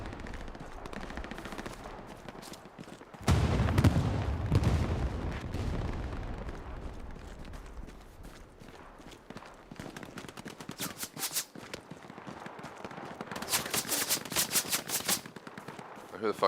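Gunfire in the World War II shooter Hell Let Loose: bursts of rifle and machine-gun fire, with heavy booms near the start and rapid volleys later, some close and some distant, and faint talk underneath.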